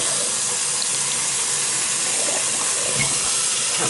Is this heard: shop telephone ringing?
no